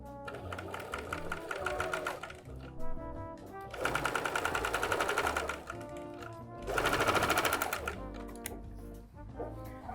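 Sewing machine stitching fabric for patchwork bias binding: three close, steady bursts of rapid mechanical stitching separated by short quiet pauses.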